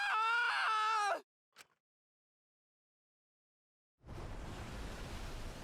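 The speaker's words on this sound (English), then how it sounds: "We watched helplessly as the area flooded with water." Water floods an area in Danganronpa V3: Killing Harmony, heard as a sudden loud, steady broadband rush after a short vocal sound and several seconds of silence.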